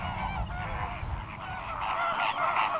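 Flamingos call in a flock, a dense chorus of honking, goose-like cries that overlap continuously at moderate distance, with no speech.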